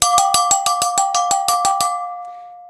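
Metal brake drums struck in a quick triplet pattern, about a dozen bright, ringing clanks in even succession, close and loud, their metallic tone hanging on briefly after the last hit.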